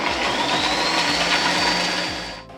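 A Wonderchef food processor fitted with a multifunction blade whirs steadily and loudly as it chops green chili, ginger and garlic. The drone runs continuously and fades slightly at the end, with no talking.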